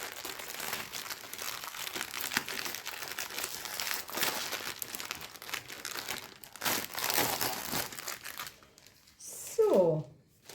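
A plastic zip bag crinkles and rustles while a cross-stitch kit is unpacked, giving continuous close handling noise with brief louder crackles, then a short stretch of quieter movement near the end.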